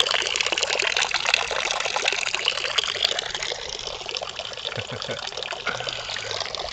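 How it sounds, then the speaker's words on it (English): Running water trickles and pours steadily outdoors, a set up for wild great horned owls to drink, with a soft voice speaking faintly underneath at times. "Got some nice running water."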